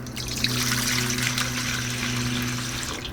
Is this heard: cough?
no